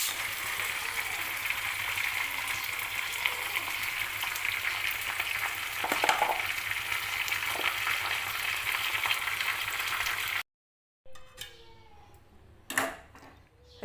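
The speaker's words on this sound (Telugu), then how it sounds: "తాలింపు వేస్తున్నాను జొన్న గుగ్గిళ్ళలో." Tempering oil sizzles steadily as it is poured into a pot of jowar guggillu, a loud continuous frying hiss for about ten seconds that then cuts off, followed by a few faint clinks and kitchen sounds.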